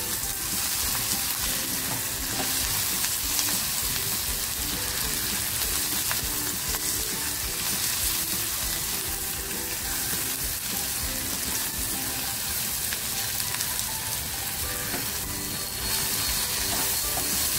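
Dried red chillies with garlic keep frying in a pan for an egg masala spice paste, giving a long, even, close-up sizzle and crackle throughout, with no voices.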